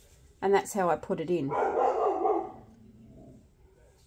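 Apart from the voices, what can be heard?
dog barking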